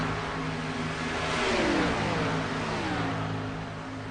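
Race car engines in the iRacing video game drone and rev as cars battle for position at Atlanta, a continuous layered engine whine swelling slightly mid-way then easing.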